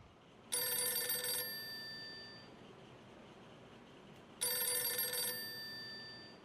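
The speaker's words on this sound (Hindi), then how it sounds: "फोन की घंटी बज रही थी" Old-style telephone bell ringing in an empty office, two loud metallic rings about four seconds apart, each a bright jangling burst of roughly a second with a lingering decay into quiet.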